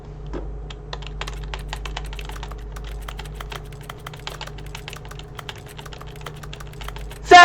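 Rapid, repeated clicking of a keyboard key and mouse button being mashed, steady and fast over a low background hum, with no talking.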